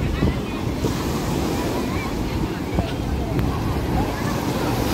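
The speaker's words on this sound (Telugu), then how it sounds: "అక్కడ చూడండి ఎంత పెద్ద అలలు వస్తున్నాయి." Big ocean waves breaking at RK Beach in Visakhapatnam, a loud continuous surf roar with heavy wind buffeting the microphone, steady and close, with no clear talk.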